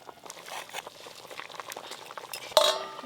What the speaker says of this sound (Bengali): অর্ধেকটা সর্ষে নিয়ে আমি জলে ভালো করে গুলিয়ে দিয়ে দেব